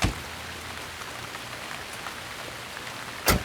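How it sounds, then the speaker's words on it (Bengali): Heavy rain falls as a steady, even hiss that fills the whole scene, with a brief louder burst near the end. "বৃষ্টি খুব হচ্ছে"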